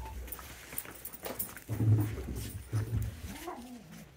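A puppy whimpers and whines in a few short, soft bursts with faint rustling around it, close by in a quiet room.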